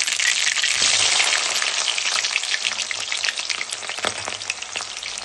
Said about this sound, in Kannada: ಸಾಸಿವೆ ಚಿಟ್ಲಿದ ತಕ್ಷಣ ಈರುಳ್ಳಿ ಹಾಕ್ತಾ ಇದ್ದೀನಿ